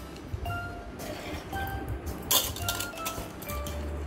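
Soaked lentils are tipped into a mixer grinder jar in a home kitchen, giving faint clinks and knocks of metal and dishes over a low background hum.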